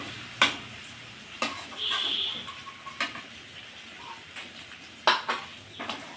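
Fried potatoes are stirred into a spice paste in a pan, with a low sizzle under sharp metallic knocks and scrapes from a spoon against the pan, spaced irregularly and close.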